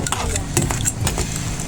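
Small crabs cooking in coconut milk being stirred in a pot, with quick scraping and clattering strokes over a low bubbling simmer, fairly close.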